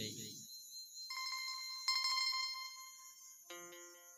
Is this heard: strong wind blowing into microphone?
no